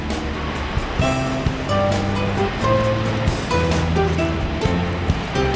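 South African fur seal island ocean waves wash and surge continuously, gentle swells, with a hum of music running underneath throughout.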